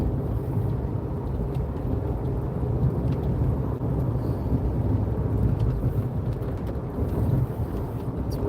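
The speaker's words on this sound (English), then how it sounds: "Raining." Steady rain falls outdoors with a low, continuous rumble of thunder underneath, close and moderately loud throughout, on a New Year's Eve night.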